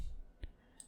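One soft computer mouse click, brief and close, in quiet room tone while working in Salome-Meca software.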